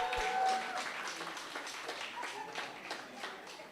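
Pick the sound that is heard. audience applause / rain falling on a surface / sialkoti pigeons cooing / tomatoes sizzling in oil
audience applause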